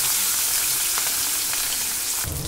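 A fish tail frying in hot oil makes a steady, dense sizzle with a few faint crackles, loud and close, and a brief louder burst near the end.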